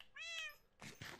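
A single faint cat meow rises and falls in the game Minecraft. Two short, soft scuffing sounds follow right after it.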